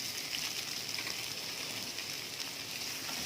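Chopped onions fry in oil with spices and curry leaves for mutton kurma, a steady, soft, even sizzle like light rain that stays constant and fairly faint, with no talking.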